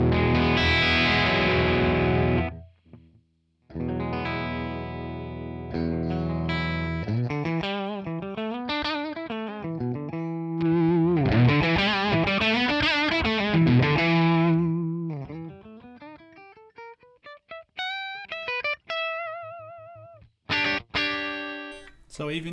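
Electric guitar played on its bridge pickup through a ToneX ONE amp capture, distorted chords and single-note runs with long sustain, stopping abruptly as a noise gate cuts in.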